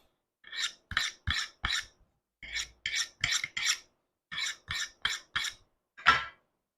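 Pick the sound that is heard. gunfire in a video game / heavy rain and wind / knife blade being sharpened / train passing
knife blade being sharpened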